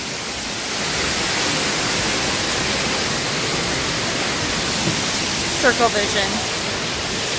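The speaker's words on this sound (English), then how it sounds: "And then you come up here and there's the waterfall." Waterfall at the Canada pavilion of Walt Disney World's World Showcase, a steady broad rushing wash of falling water throughout, with a person speaking briefly over it and faint crowd sounds near the end.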